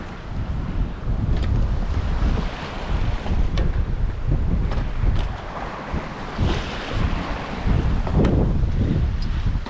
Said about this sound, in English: it's pretty windy, it's very swelly